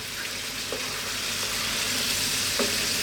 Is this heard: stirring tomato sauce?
yes